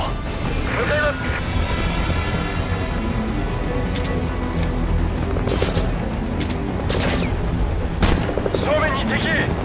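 A helicopter in Metal Gear Solid V: Ground Zeroes drones steadily and loudly throughout, with bursts of gunfire and game voices speaking over it.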